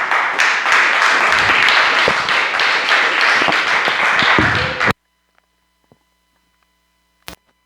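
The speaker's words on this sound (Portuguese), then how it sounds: "Aplaudimos ao Senhor." A church congregation applauding at the close of an evangelical worship service, dense clapping with a few voices mixed in that stops abruptly, leaving near silence with a couple of faint taps.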